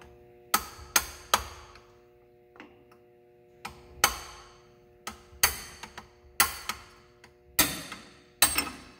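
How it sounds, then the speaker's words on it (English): Hammer striking a brass drift against a long bolt while removing transfer case mount bushings on an M35 truck, about a dozen sharp ringing metallic blows at an uneven pace, close and loud with short decays. "We play brass drift versus long bolt now."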